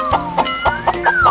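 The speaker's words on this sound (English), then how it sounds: "this is yellow chicken" A yellow chicken gives a run of short, evenly spaced clucks, about five in quick succession, close and clear over a tonal background.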